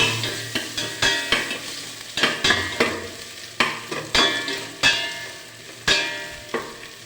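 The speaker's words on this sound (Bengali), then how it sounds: "চামচ দিয়ে এখন এগুলো একটু নাড়বো।" Onions heated in a pan are stirred with a spoon, giving a quick series of repeated scraping strokes over a continuous close sizzle, loud and rhythmic with short gaps.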